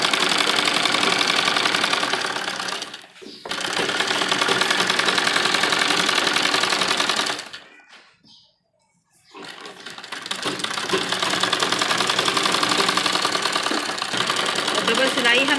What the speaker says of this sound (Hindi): जैसे हम इसमें अब यहाँ पर सिलाई लगाएंगे।